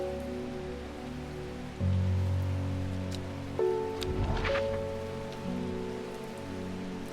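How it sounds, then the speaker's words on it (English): Rain ambience in the Strange Horticulture video game: steady patter of rain on surfaces under layered, sustained musical drones, with a brief swell of rain noise midway. "A rainy day."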